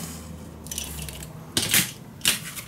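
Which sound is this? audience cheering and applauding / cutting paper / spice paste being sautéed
cutting paper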